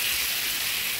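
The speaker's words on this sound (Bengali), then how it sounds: "এখন আমি আরও কিছুক্ষণ ভাজা ভাজা করে নেব" Hilsa fish heads and tails fry with taro stems in a pan, giving a brief, even, close sizzling hiss with no voices.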